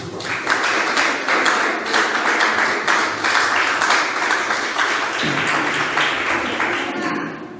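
A worshipping congregation claps hands together in church, a dense, steady wash of many palms that carries on throughout, with a low voice or music murmuring underneath.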